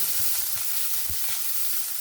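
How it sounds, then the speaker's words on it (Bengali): Chopped onion sizzles steadily in hot oil with black cumin and bay leaf, a continuous bright hiss with a few soft stirring knocks, close and alone. "পেঁয়াজটা এখানে হালকা ভেজে নিয়েছি"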